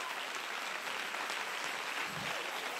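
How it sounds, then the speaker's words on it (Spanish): A church congregation applauds in a dense, even wash of many hands clapping, sustained and fairly loud throughout the short burst. "Si ese es el aplauso, dáselo mejor."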